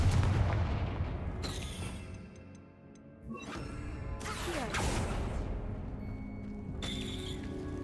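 Fire spell blasts in the Hogwarts Legacy video game: several loud explosive booms with crackling fiery tails, separated by short quieter gaps over a rumbling game soundscape.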